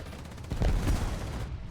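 Small cannon firing in a combat video game, heard as a short burst of two or three close, heavy booming shots over a low rumble, with no talking.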